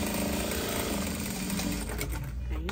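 Sewing machine stitching fabric for a U-shaped back yoke with a lace scallop edge, running in a steady continuous whir throughout, close and fairly loud, with someone talking over it.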